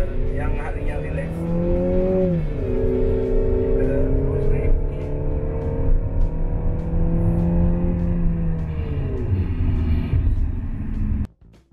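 New Peugeot 3008 SUV driven in sport mode, its engine loud and steady, with a rising pitch, a brief drop and a climb again as it accelerates, then cutting off abruptly near the end.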